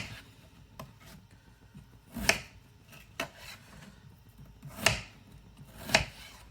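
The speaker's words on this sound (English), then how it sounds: "So we got last potato just getting chopped up." Knife chopping potatoes on a wooden board, a few sharp separate cuts spaced over several seconds with quiet scraping between them, close and clear.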